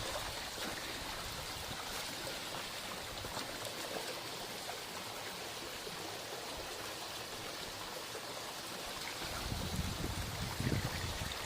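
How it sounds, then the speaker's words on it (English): A small stream that feeds the Kurokawa (Black River) burbles and trickles steadily at close range, a soft continuous wash of running water, with a slightly heavier splashing swell near the end. "This is one of the streams that leads into the Kurokawa Black River"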